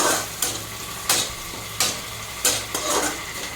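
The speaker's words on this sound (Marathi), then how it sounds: "आता कांदा आणि टोमॅटो चांगलं परतून घ्यायचं" Onion and tomato sauté in a pan over a low flame while egg bhurji is being made. A steady close sizzle runs throughout, broken by sharp spatula scrapes roughly every half second or so.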